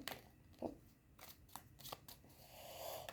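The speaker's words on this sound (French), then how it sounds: "La carte se retourne." Tarot cards are shuffled, flipped and laid down in a quiet room, soft papery slaps and brushes arriving in several short bursts.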